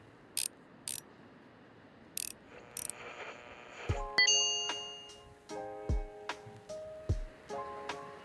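Screws being screwed back in during a repair video game, heard as sharp clicks and ratcheting mechanical ticks with bright chiming game tones, spaced unevenly over a quiet background and no voices.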